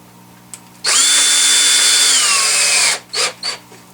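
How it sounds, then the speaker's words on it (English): A power drill whirs loudly for about two seconds while drilling a fretboard jig for a string instrument, its pitch dropping as it slows, followed by a couple of short bursts. "make sure your drill is on the weakest setting"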